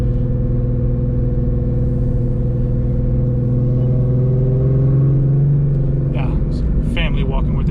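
A car engine hums loudly and steadily from inside the vehicle while driving, holding a low drone that rises slightly in pitch partway through, and a person speaks near the end.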